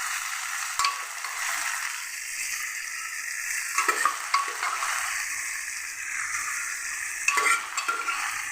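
Boiled moong dal and vegetables go into fried masala in a pan, with scraping, clattering stirring strokes over a soft frying hiss, several louder bursts of spoon movement spread through, and no voices.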